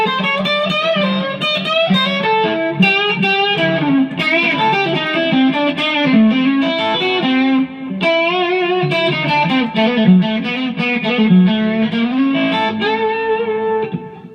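A Squier Vintage Modified Jazzmaster electric guitar rings out in sustained chords and melodic lines with the tone control eased slightly from full, played loud and continuous with no talking.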